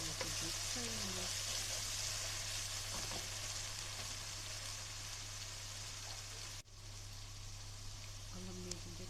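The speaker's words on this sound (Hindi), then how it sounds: "जिंजर गार्लिक का पेस्ट डालना और इसको अच्छी तरह से मिक्स कर लेंगे" Ginger garlic paste sizzles and fries steadily in a pan with dry fruits, a constant close hiss with faint stirring clinks, ending in a brief pause before the frying resumes.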